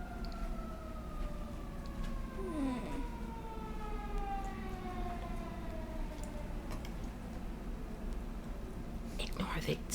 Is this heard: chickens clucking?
no